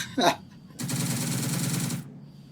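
Machine gun fire in the World War II video game Second Front: a short sound, then a sustained rapid burst of automatic gunfire lasting over a second, loud and close.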